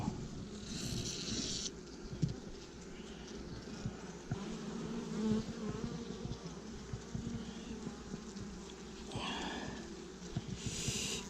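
Honey bees hum in a steady, faint, continuous drone at an open hive during swarm-making work in a beekeeping apiary, with a few louder passes of individual bees nearby.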